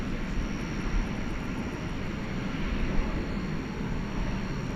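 Frontier Airlines jet in green livery at DFW airport at night, bound for Las Vegas: a steady, broad engine roar holds evenly throughout, moderately distant, with no talk.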